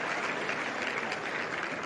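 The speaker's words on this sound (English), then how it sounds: "And applause" Steady broadband applause from a tennis crowd after a long rally at a women's match in Zapopan, continuous and fairly close, with no voices standing out.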